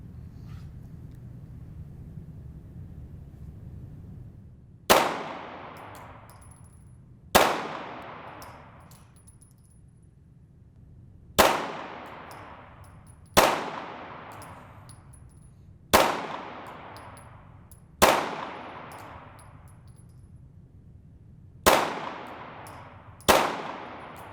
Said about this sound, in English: From there, I'm going to take another 8 shots, top, right, bottom,